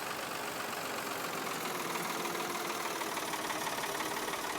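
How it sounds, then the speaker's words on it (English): Tractor engine straining under a heavy lime trailer in the farming game Farming Simulator 22, a steady droning mid-pitched engine hum that holds evenly throughout at low volume, with no talk. "Tractor's going to struggle a bit now, though."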